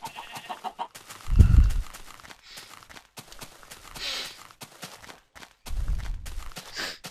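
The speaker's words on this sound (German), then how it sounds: "Hühner." Chickens cluck in short scattered bursts amid a busy Minecraft background, with a couple of low thumps and some soft footsteps.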